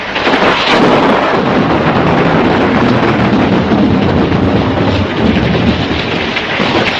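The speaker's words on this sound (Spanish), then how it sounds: "El trueno retumbaba, el rayo caía, la roca vacilaba sobre su base." Heavy rain pours steadily while deep thunder rolls and rumbles continuously, loud and close, with no voices over it.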